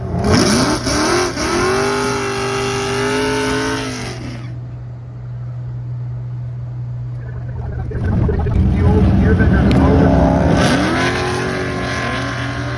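A drag race car launches down the strip at Cordova, its engine roaring loud and close with rising revs, dropping away briefly before another burst of hard acceleration returns.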